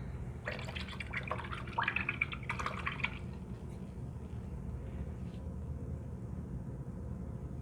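A paintbrush swished and tapped in a water container during acrylic painting, making soft splashy drips and light clinks for a few seconds over a steady low background hum, then fading to the hum alone.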